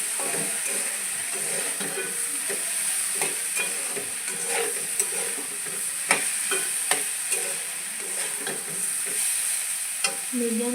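Soaked dried loitta fish fries in oil in a pan at medium heat, a steady sizzling hiss with repeated spatula scrapes and taps as it is stirred, close and without speech.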